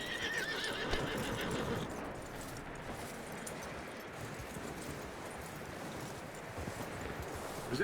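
A horse whinnies in the video game Red Dead Redemption 2, set against a steady wash of outdoor game ambience that carries on without a break.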